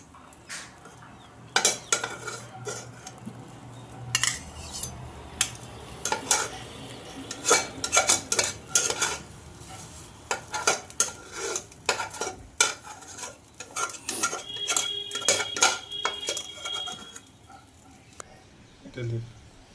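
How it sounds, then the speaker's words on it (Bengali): Clinks and scrapes of a spatula against a pan and bowl as cooked cauliflower-stem vegetables are scooped out, a series of short, close taps and scoops repeating irregularly with quiet kitchen background. "একটু তুলে নিই সবজিটা"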